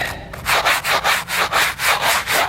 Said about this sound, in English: You just scrub it and it's gone.